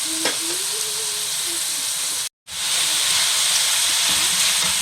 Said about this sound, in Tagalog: kailangan ay gisa natin mabuti